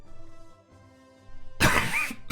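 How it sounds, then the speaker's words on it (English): A single sharp, loud cough bursts out close to the microphone after a quiet stretch of faint background game music. "Excuse me, pardon my cough."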